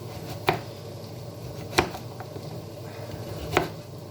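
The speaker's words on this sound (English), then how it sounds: "And I'm just going to quickly chop these up." Carrots are chopped with a knife on a board: three sharp, well-spaced thuds, close by, over a steady low background hum.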